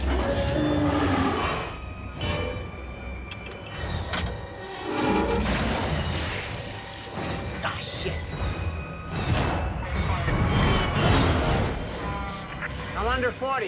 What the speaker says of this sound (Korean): 접합된 기관차에 브레이크가 걸리기 시작하죠.